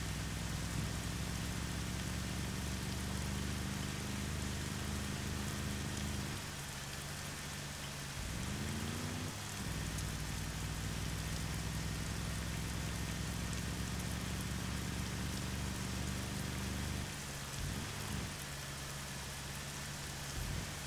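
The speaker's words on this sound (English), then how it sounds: "I can barely hear myself over the rain." Steady heavy rain hisses throughout a video game scene, joined by a low engine-like rumble that rises and falls in the background, with no voices.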